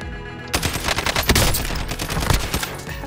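Gunfire in the Call of Duty Warzone video game, a loud burst of rapid automatic shots and cracking impacts starting abruptly and continuing densely for about two and a half seconds.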